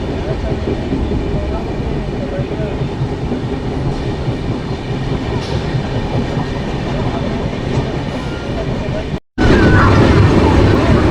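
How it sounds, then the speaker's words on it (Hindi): A train rumbles and clatters at Sanewal station after dark as an oncoming train approaches, a loud, steady roar heard from aboard that cuts out briefly and then returns even louder. "सामने से ट्रेन आ रहा है"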